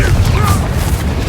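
Confringo blasting spell cast in the Hogwarts Legacy video game, a loud, dense explosive roar with a booming low end that fills the whole moment without letting up.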